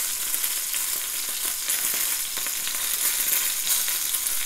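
Butter sizzling hard in a pan beside a seared chicken breast, a loud, dense, continuous frying crackle with no voices.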